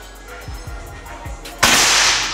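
A single air rifle shot fires a pellet during a pellet test: a sharp, loud crack near the end, then lingering broadband hiss, after several faint low thumps.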